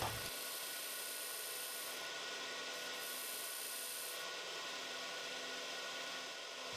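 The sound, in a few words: skew chisel marking wood on a lathe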